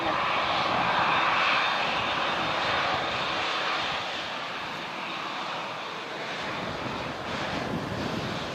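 A Jetstar airliner on its takeoff roll at Christchurch Airport: a loud, continuous jet roar that swells and eases slightly, heard from a distance with no voices.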